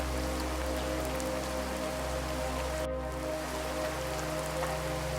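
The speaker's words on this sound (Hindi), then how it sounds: "बारिश थोड़ी धीमी हुई है" Heavy rain pours steadily on surfaces, a dense unbroken hiss of drops with a constant low rumble underneath, loud and close throughout with no voices.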